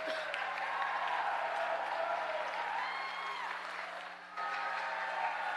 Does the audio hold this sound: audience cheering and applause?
yes